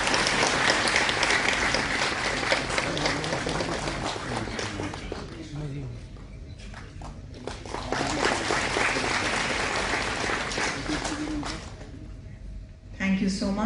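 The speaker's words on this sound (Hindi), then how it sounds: "जोरदार तालियों से" Loud applause from an audience at the launch event of the Vishwakarma Scheme, attended by someone, with dense clapping that dips and swells over the clip and voices mixed in.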